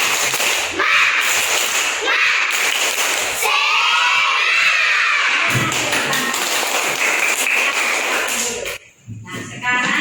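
A class of schoolchildren claps in rapid rhythmic bursts while shouting a spirit chant together, loud and close, ending with a short pause and scattered claps.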